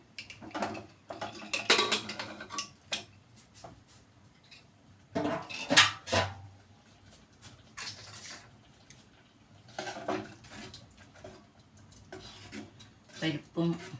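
A metal pressure cooker has its whistle removed and its lid opened, producing clattering and clinking metal knocks in bursts, with a person talking in between.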